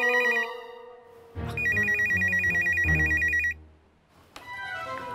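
An office telephone rings with a loud electronic ringtone, a sustained repeating trill heard alone over faint background tones.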